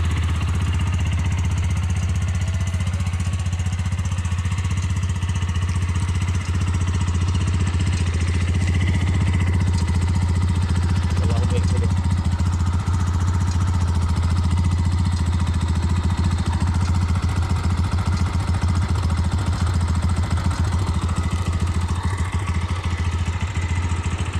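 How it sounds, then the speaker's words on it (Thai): A GPX 200R two-cylinder motorcycle runs steadily nearby, its engine holding a loud, deep, even drone with a constant low hum and faint mechanical clatter throughout, no voices over it. "เสียงดังกับรถสองสูบนะครับ"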